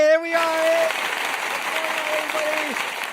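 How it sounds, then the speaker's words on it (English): Looping recorded clapping effect triggered by a podcast host, a short burst of applause with a faint tonal jingle line over it, fairly loud and steady. "Why does the clapping keep looping?"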